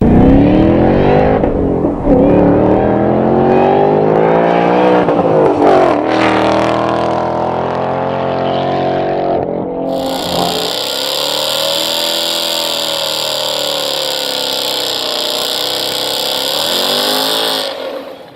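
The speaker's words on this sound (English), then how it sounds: "A Borla exhaust makes sure everyone outside knows it too." A powerful V8 muscle car with a Borla exhaust revs loudly and repeatedly, rising and falling in pitch, then settles into a sustained high-pitched roar with a whine.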